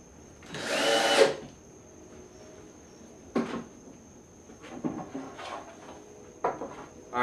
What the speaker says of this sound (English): With my fence set up on the drill press, it will ensure all my holes will be in line.